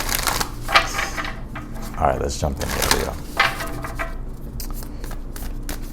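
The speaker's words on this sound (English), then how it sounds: "If I can shuffle these cards" A deck of tarot cards being shuffled nearby, with soft riffling and tapping bursts under a voice talking.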